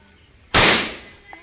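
A single sharp firecracker bang bursts out loud and close, its crackling noise trailing off over about half a second against a quiet background.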